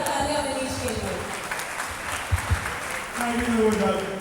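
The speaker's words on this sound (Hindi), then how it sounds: "जोरदार तालियां मनीष के लिए" An audience applauds steadily for Manish, a well-dressed, cheerful auto-rickshaw driver, at Smriti Irani's speech event; the broadband clapping is mixed with a voice and background music that run over it.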